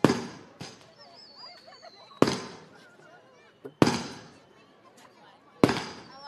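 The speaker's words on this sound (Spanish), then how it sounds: "las bombas, los cohetes" Fireworks and firecrackers go off at a village festival in Tamazulapam Mixe, four sharp, loud blasts spaced a second or two apart, each with a crackling tail and echo, with faint whistles and distant voices between them.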